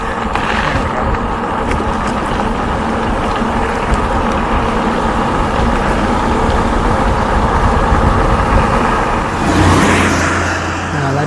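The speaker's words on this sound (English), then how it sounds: "That truck was bad timing." A truck passes close on a road during a bicycle tour, a loud sustained engine and tire roar that stays steady and swells slightly toward the end.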